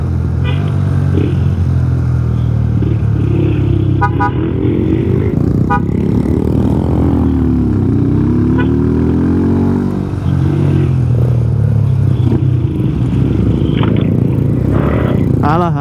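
A motorcycle engine hums steadily and loud throughout a road ride on a touring trip in West Java, with wind rush, a rising and falling engine pitch, and a few faint clicks.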